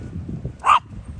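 A single short, sharp dog bark rises out of a low background rumble.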